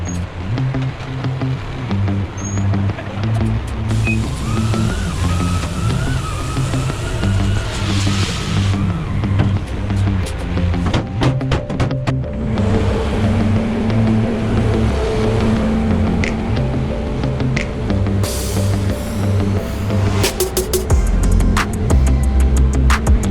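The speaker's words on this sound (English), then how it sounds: "Spinning the Bobcat in one place tends to bunch up the fabric very quickly." A Bobcat skid steer spreading a load of gravel around a workshop and driveway, its engine droning loud and steady throughout with slight changes in pitch as it works.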